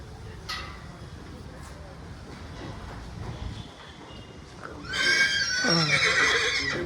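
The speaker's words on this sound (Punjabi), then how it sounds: "ਕੱਦ ਘੋੜੇ ਦਾ ਬਹੁਤ ਆ ਯਾਰ ਆ ਵੇਖੋ ਘੋੜਾ ਬਈ" A tall horse in a stable gives a loud, harmonic neigh near the end, over a busy background with people talking nearby.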